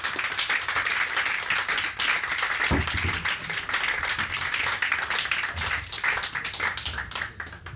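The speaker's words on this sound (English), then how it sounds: "Give a round of applause." An audience applauding after a short film at an Exploding Cinema screening in Margate, a dense, steady round of clapping from a room full of people, sustained throughout.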